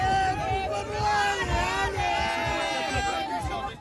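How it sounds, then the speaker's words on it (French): A crowd at the Old Port in Marseille on municipal election night greets Benoît Payan with cheers and whistles, voices shouting over a busy babble of people nearby. "Une arrivée triomphante et sous les acclamations pour Benoît Payan."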